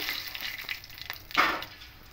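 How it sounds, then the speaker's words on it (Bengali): Dried chilli tempering crackles in hot mustard oil as it is stirred, a soft steady sizzle with one brief louder burst of spattering midway. "শুকনো লঙ্কা ফোড়নে দেব। একটু নাড়াচাড়া করে নেব।"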